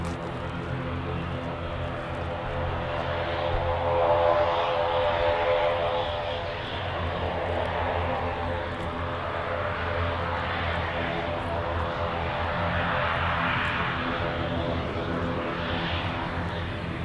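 Loganair aircraft at Birmingham Airport, a sustained propeller engine drone with tonal hum that swells slightly and holds steady, heard from a moderate distance.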